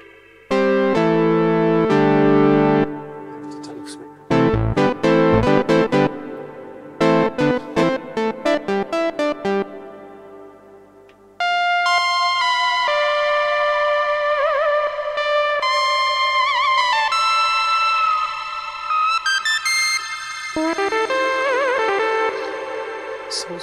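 Roland Juno-106 synthesizer notes ring out with heavy reverb and echo, first in choppy stabs, then sustained tones trailing long washy tails.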